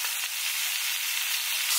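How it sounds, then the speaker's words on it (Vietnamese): Beef searing in a hot pan for Thai beef salad, a loud, close, continuous sizzle with no voices. "Mình phải chiên cả cái cạnh nữa nha các bạn."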